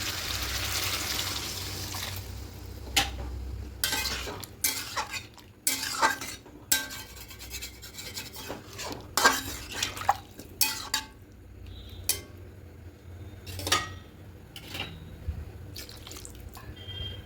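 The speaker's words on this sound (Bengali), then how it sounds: "এবার এখানে জলটা অ্যাড করে দেবো" Water is poured into a pan of spiced potato and pumpkin being cooked, followed by scattered clinks, scrapes and drips of a utensil against the pan, close and moderately quiet.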